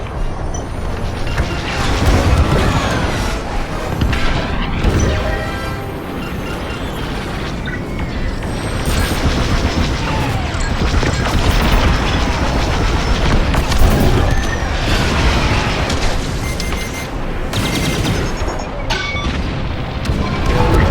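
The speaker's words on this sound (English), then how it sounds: "Missile coming right at you." Missile explosions and gunfire in the Star Wars Squadrons space-combat video game form a dense, loud, continuous barrage of deep booms and rumbling blasts with crackling bursts layered on top throughout.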